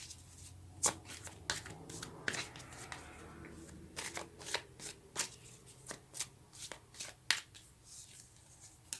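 A deck of tarot cards is shuffled by hand in a quiet room, with repeated crisp riffling and snapping bursts in an uneven rhythm over about nine seconds, fairly close and soft.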